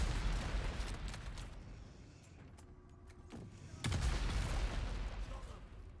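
Rocket volleys and area-of-effect explosions hit groups of enemies in a desert-set video game, a dense rumbling barrage with a sharp blast partway through and a voice talking over it.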